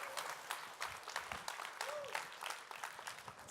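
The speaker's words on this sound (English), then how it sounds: "Round of applause, please." Applause from the audience at a talk on green, healthy streets and zero-emission transport, a scattered patter of clapping at moderate distance, quite faint, with a short tonal sweep partway through.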